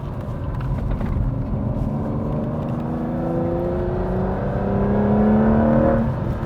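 A sports car with grippy tyres pulls hard through its gears on the road. The engine note climbs over a steady road roar, loud and close.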